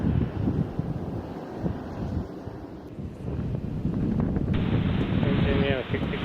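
Strong wind buffets the microphone on the Kansai Airport observation deck, a loud, continuous roar with gusty swells. A steady higher whine rises near the end.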